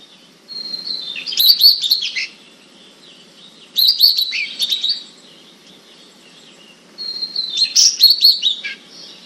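Endemic Taiwanese birds sing in three separate bursts of bright, high chirping and twittering, fairly close and clear against a quiet forest background with no voices.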